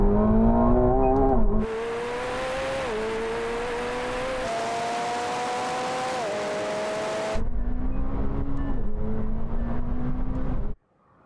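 McLaren 750S and 720S sports cars accelerate hard in an 800-metre rolling-start drag race from about 59 km/h, engines roaring loud and close, with rising pitch sweeps at each gear change and a sharp cutoff at the end.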